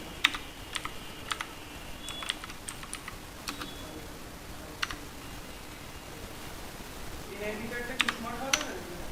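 Keys clatter on a computer keyboard while a Google search for Upwork is typed, with light, close clicks arriving in short irregular bursts and scattered single taps.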